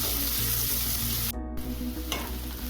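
Chopped onions frying in a pan until golden brown, a dense, loud continuous sizzle with a low steady hum beneath, a brief dip in the middle and a single stirring scrape afterward.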